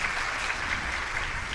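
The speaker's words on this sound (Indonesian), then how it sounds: "Tepuk tangan buat Tuhan." Congregation applauding during a church sermon, a steady, dense wash of clapping filling the room at moderate distance, continuous and even without voices over it.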